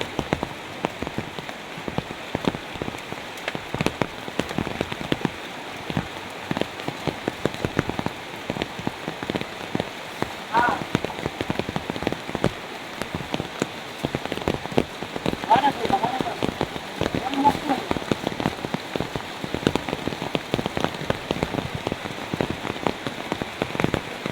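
Heavy rain pours steadily onto a surface at night during a frog-catching outing with a cast net, a dense continuous patter close by, with faint scattered speech beneath.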